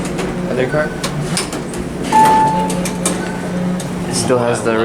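The original motor of an Otis traction elevator drones with a low, steady mechanical hum throughout, with a brief beep, some clunks, and a voice speaking near the end.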